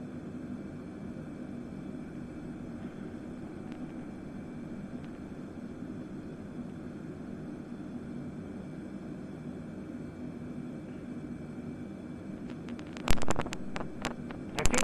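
An aircraft in Microsoft Flight Simulator runs its engines at maximum power for takeoff, making a steady, loud droning roar throughout, with a few sharp clicks and knocks near the end and no talking.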